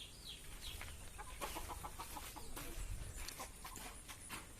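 Laughing chickens (ayam ketawa) at a Meulaboh chicken farm in Aceh Barat, with a rooster's drawn-out crow and scattered clucks over steady farmyard background noise, moderately close, no talking.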